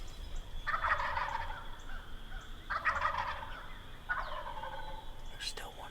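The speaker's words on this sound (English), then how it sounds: "That one that's yelping." A wild turkey hen yelps from a tree in an Iowa spring woodland, three short bursts of raspy yelps spaced about two seconds apart, clear and fairly near over faint background hiss.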